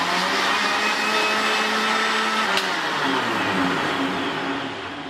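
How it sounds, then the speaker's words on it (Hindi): A mixer grinder blends pomegranate juice with black salt and sugar, a loud, close, steady motor whir with churning liquid that holds evenly before easing slightly at the end. "अब मैं इसको फिर अच्छे से ग्राइंड कर लूँगी।"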